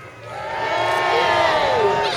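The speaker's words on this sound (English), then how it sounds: "First of all, the House of York, a cheer." A jousting tournament crowd at Warwick Castle cheers for the House of York, a loud swelling roar of many voices that builds and holds.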